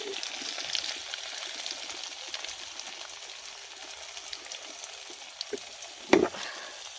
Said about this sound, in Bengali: পনিরগুলো ভাজা হচ্ছে।